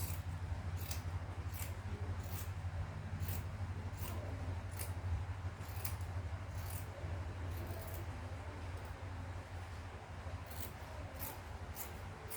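Scissors snip through fabric while cutting out a pattern piece for shorts, a regular series of crisp close cuts over a steady low hum, with no talking.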